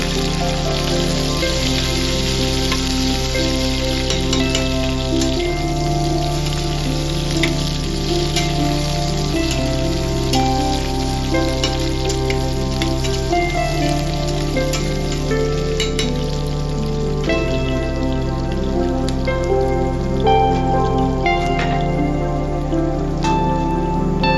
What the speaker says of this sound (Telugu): దీనిలో సన్నగా తరిగిన ఉల్లిపాయ నాలుగు చీరకులుగా కోసిన పచ్చిమిరపకాయలు యాడ్ చేయండి